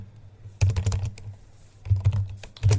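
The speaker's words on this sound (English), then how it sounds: "type cmd here and type your gp update" Fingers tap on a computer keyboard close by in two quick bursts of keystrokes, with a short pause between them and a few more taps at the end.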